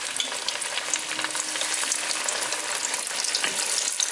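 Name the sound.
halloumi fries frying in hot oil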